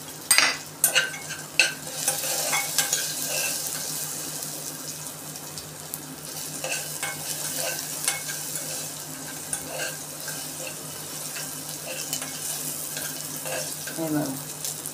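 Carrots tossed into oil with chili in a pan for a toddler's vegetable dalia, hissing and sizzling steadily while a spoon stirs and scrapes, close by with a few sharp clatters at the start.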